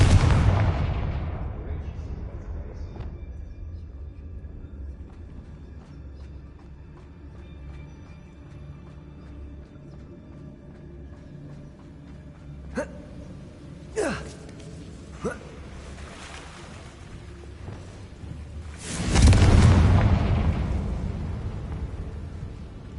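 In the video game Hogwarts Legacy, a Confringo spell sets off explosions: a few sharp cracks, then a loud, booming blast near the end, with quiet ambience and some speech in between.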